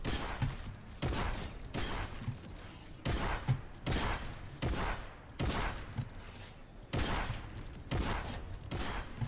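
Repeated gunfire bursts in the Fortnite video game, about ten sharp blasts in quick succession, each followed by a short decay, steady and fairly close throughout.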